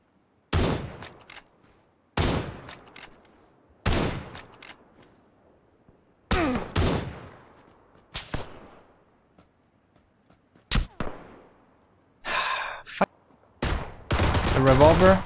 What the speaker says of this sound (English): The revolver, the Winchester, what a shot.